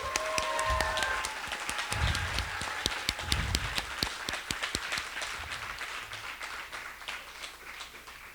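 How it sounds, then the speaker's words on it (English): Audience applause for student presenters at a school humanity symposium, a few seconds of scattered claps that thin out toward the end, with a brief faint whistle near the start. "So let's give them a round of applause for it"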